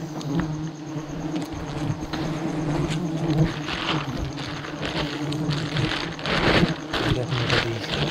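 Swarm of honeybees buzzing around a huge wild honeycomb being cut and harvested up a tree, a dense, continuous drone with individual bees zipping close by.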